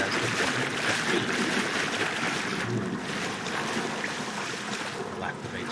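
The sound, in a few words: water rushing free in a video game map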